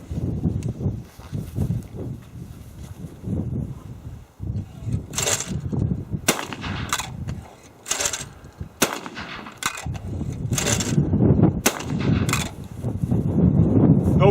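A Breda B-80 12 gauge gas-operated shotgun with a steel receiver fires a series of sharp, loud, separate shots outdoors, spaced a second or two apart, over low wind and handling noise.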